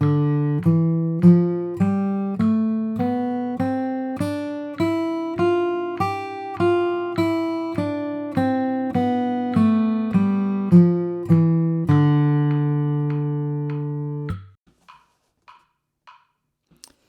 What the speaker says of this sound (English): if you hear it with the metronome, it just sounds like a Dorian scale